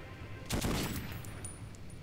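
AK rifle fire in the video game Metro 2033, a quiet, brief burst of a few shots followed by fading echoes and ambient noise.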